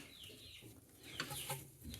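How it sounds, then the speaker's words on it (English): Baby chicks chirp in the background, a few faint, high cheeps scattered across an otherwise quiet stretch with no voices. "Sorry if you hear some chirping, cheeping, whatever you want to call it in the background. We got some baby chicks out there."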